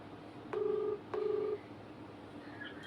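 A phone call's ringback tone sounds as two short, evenly spaced electronic pulses, then falls quiet against faint room hiss.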